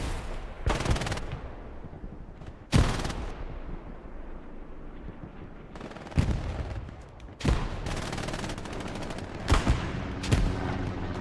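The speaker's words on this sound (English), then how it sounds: "Spearson with the hip-fired MG." A hip-fired machine gun in the WWII shooter Hell Let Loose cracks out in several loud, short bursts. Booming distant gunfire and explosions fill the gaps between bursts.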